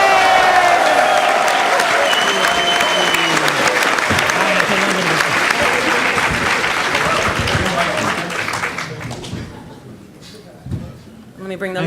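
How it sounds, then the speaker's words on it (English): A convention audience at a Halo: Anniversary panel at New York Comic Con cheers and applauds loudly and steadily, a dense crowd roar that fades toward the end with scattered claps and voices trailing off. "everybody, cheer for Dennis."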